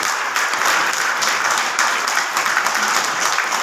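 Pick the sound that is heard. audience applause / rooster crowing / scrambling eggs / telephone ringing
audience applause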